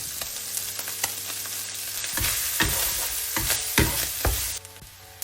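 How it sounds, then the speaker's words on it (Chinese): Shredded chicken is stir-fried with curry and butter for curry chicken fried rice, a continuous close sizzle broken by repeated sharp scrapes and knocks of a spatula against the pan. "将咖喱和鸡肉翻炒均匀以后"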